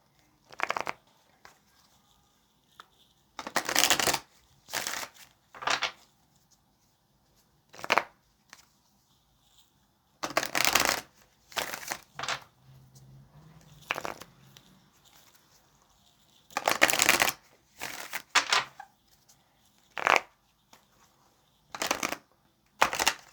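Tarot cards shuffled in short, crisp bursts separated by pauses, close and fairly loud with no talk, riffling rhythmically again and again.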